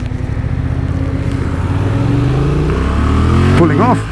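A 2023 Honda Transalp XL750 motorcycle pulls away, its engine note climbing steadily through the revs, loud and close, ending in a brief sharp throttle blip.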